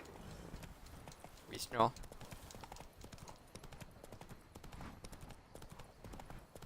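Hooves of Roach, the horse in The Witcher 3, clip-clop in a steady rhythm throughout, moderately loud, with a brief louder burst near the start, under a man's speech.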